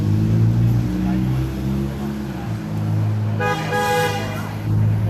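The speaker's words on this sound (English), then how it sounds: "Someone just honked. They saw the banner." A car horn honks in a short burst from the street, set against a steady low rumble of engines and background chatter.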